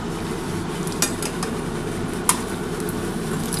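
Eggplant fritters (beguni) frying two at a time in oil, a steady broadband hiss throughout with two brief sharp clinks of a utensil, no talk.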